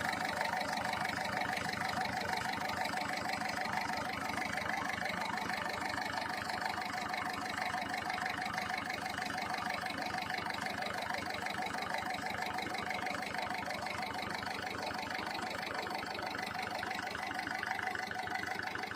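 A Ford Figo car with an injector problem idling, its engine running in a steady, even, fast-pulsing drone at constant level throughout, close by and without voices.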